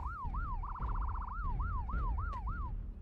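A siren from the MechWarrior Online video game wails in repeated rising-and-falling sweeps, briefly switching to a rapid yelp warble before returning to the slower wail, loud over a steady low engine rumble.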